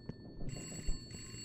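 Telephone ringing in the video game Mint's Hints, a steady electronic ring that stays on through a brief moment, with faint soft bumps beneath and no talk.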